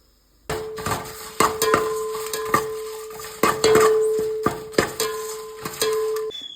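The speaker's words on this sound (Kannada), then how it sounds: "ಉಪ್ಸಾರು ಖಾರ ಇದನ್ನು ಫ್ರೈ ಮಾಡ್ಕೊಳ್ಬೇಕು, ಅಂದರೆ ಸ್ವಲ್ಪ ಹುರ್ಕೊಳ್ಬೇಕು." Byadgi dry red chilies fried in a pan, with sharp metallic clinks of a spoon against the pan at irregular intervals over a faint hiss, close and clear with no talk.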